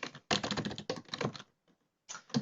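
Typing on a computer keyboard, with fast close-up key clatter in dense bursts, a short pause, then another quick run of keystrokes.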